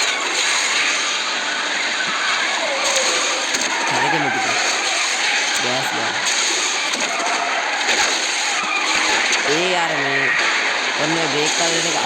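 A Bugatti in the Asphalt Nitro 2 racing game squeals its tires in several short skids over a constant loud engine and music bed, with bursts around the middle and a cluster near the end, while people talk over it.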